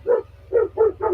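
Dog barking in the Minecraft video game: four short barks in an uneven rhythm, loud and close, with a steady low hum beneath.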